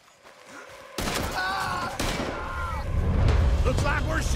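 Shootout gunfire in Red Dead Redemption 2, a dense clatter of shots and booms that builds in loudness, with voices mixed into the chaotic action.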